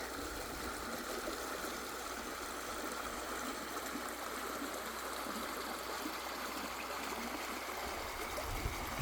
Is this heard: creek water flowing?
yes